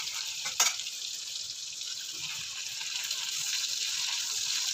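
Pork steak sizzling in a hot pan with oil, a steady bright frying hiss that jumps with a brief crackle as the meat goes in, then holds and slowly swells, close and loud, no talking.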